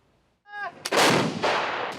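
Ukrainian artillery fires shells toward Russian positions: a loud, close blast erupts after a short quiet lead-in, followed by a second booming report and a rolling echo.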